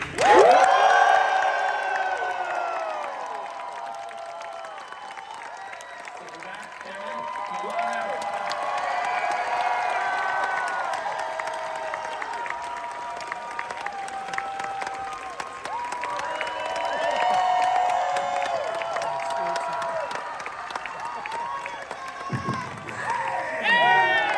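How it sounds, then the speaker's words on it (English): A Hall H audience at San Diego Comic-Con 2025, gathered for an evening with Kevin Smith, breaks into loud applause and cheering that swells and holds for the whole stretch, with whoops rising from the crowd. "let's give a nice cheer to let him know there are people in the room really quick"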